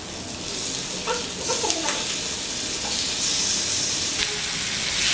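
Fish fillets fry in hot oil in a pan with curry leaves scattered on top, giving a steady, close sizzling hiss with small crackles and pops throughout, no talking.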